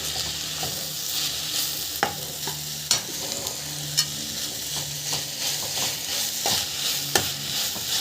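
Food sautéing in a hot pan gives a continuous close sizzle, broken by repeated sharp clinks and scrapes from stirring at irregular intervals.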